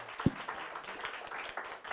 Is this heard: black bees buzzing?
no